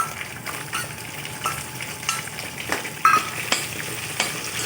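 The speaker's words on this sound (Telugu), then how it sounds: "ఇప్పుడు ఎండు రొయ్యలు వేస్తున్నావా?" Dried shrimp frying in hot oil for an old-style telagapindi curry, giving a steady crackling sizzle with occasional stirring scrapes, close and continuous with no talk.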